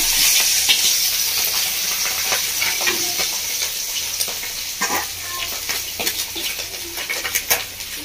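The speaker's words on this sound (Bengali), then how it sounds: "মাছটা একটু ভাজা হয়ে গেছে" Mourola fish frying in a pan, a loud, close crackling sizzle that holds steady for several seconds, with occasional clinks and stirring scrapes over it.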